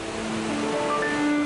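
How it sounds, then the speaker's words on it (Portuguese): A waterfall in Australia, water pouring over rocks in a steady broadband rush, continuous and fairly close, with no voices. "Cachoeiras."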